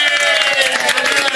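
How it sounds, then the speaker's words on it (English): Applause and crowd noise from a small audience inside a diner, a dense steady wash of claps with murmuring voices mixed in, fairly loud and continuous through the moment. "Give her a round of applause"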